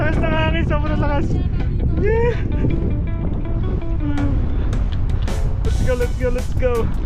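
Strong wind buffets the microphone during a mountain bike ride in Calgary, Alberta, Canada, a dense, steady low roar that runs throughout while people talk over it.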